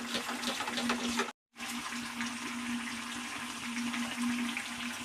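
Water pours steadily into batter for a vegetarian recipe, a continuous splashing trickle heard close and alone, broken by one brief silent gap before the flow resumes.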